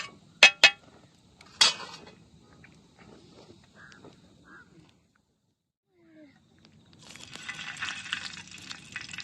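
Stuffed green chillies frying crisp in oil, a few sharp clatters at first, then a steady close sizzle building near the end.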